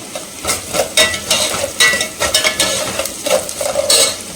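Onions sizzle and fry in a pan with coarse salt added, while a utensil scrapes and stirs in quick, repeated strokes, close and fairly loud with no talking.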